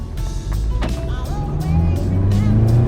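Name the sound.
Volkswagen GTI engine starting via remote start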